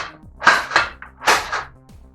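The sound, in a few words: X-Shot Turbo Fire toy blaster firing darts in slam fire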